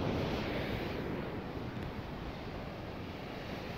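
Steady broadband ocean surf rushing continuously, fairly loud and close, with wind buffeting the microphone and no voices.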